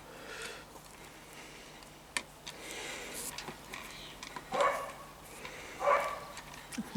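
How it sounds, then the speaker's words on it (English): A dog barks twice at a distance, faint and spaced about a second apart, over a quiet workshop backdrop of small clicks and taps while tail lights on a Reliant 850 trike are being wired. "Dog shouting as well."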